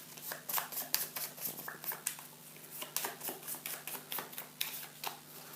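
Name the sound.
shuffling playing cards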